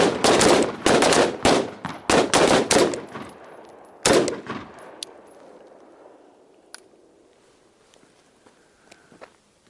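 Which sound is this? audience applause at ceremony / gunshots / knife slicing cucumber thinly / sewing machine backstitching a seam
gunshots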